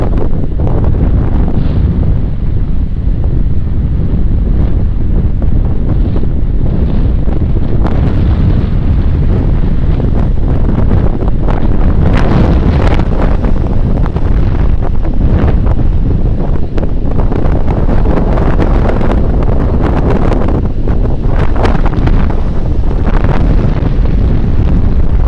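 Strong, cold winter wind roars steadily against the microphone outdoors in hilly country, a loud continuous buffeting rumble with gusty surges throughout and no voices.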